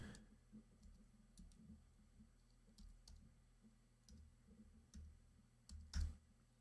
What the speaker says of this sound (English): Just typing in this code.